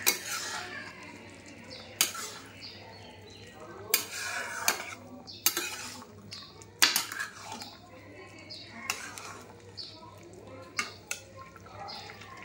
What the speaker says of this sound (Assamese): আৰু এতিয়া মই ভালকৈ ভাজিম